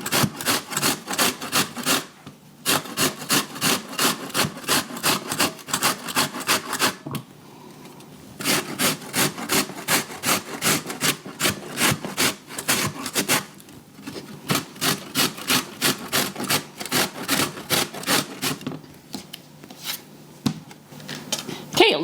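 Rutabaga scraped on the second-largest holes of a box grater: quick, rhythmic rasping strokes in several long runs, close and fairly loud, with brief pauses between runs.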